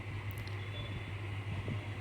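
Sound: train departing

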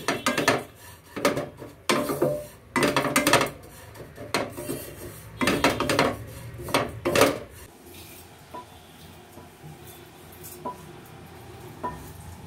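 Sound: oats being dry-roasted in a pan

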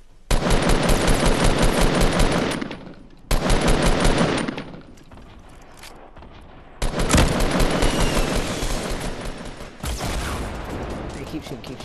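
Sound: gunfire in the video game Fortnite

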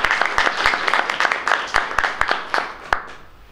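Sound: audience applause for children at book launch

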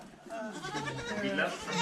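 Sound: goat bleating

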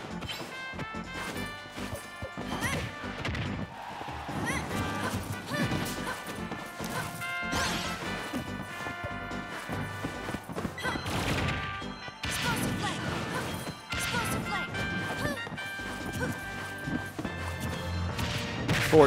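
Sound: forward smash hitting wooden blocks in Super Smash Bros. Ultimate video game

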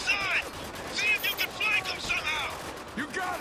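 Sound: gunfire from the video game Spec Ops: The Line

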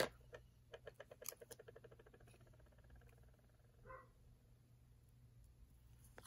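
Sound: dog barking

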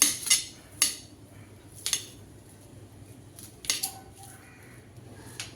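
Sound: cutting onion into pieces with a knife

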